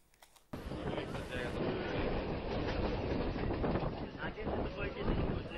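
A train runs along rails with a steady, loud rumble and rhythmic clatter of wheels that starts abruptly and continues throughout, with no voices over it.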